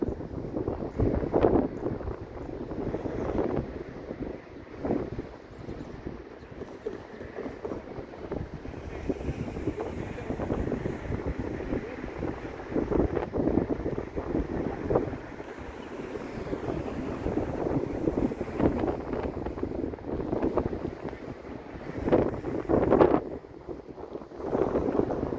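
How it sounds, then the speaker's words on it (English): Wind buffets the microphone outdoors beside a railway line, producing a constant rumbling roar with gusty surges that stays loud throughout, with no talk. "This wind's making me shake a little bit"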